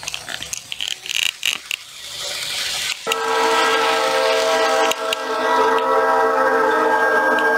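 A model train's sound module plays a train horn over rumbling rail noise on an N scale Kato track layout, following a few irregular clicks and bumps, the horn tone holding steady and fairly loud.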